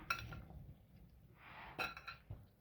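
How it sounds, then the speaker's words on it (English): Small spoon stirring fruit salad in a bowl, giving light clinks and taps against the dish, a few scattered bright clicks over a soft shuffle of fruit, close and quiet. "Just stir this all together, okay?"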